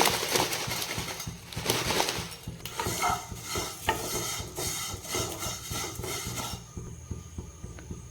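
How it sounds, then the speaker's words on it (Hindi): Vermicelli stirred and roasted in a little oil in a pan, with a soft continuous scraping and rubbing of a spoon against the metal and a faint sizzle, close and quiet. "सिमेई रे देइतबा अल्प तेल देकी भाजीबा"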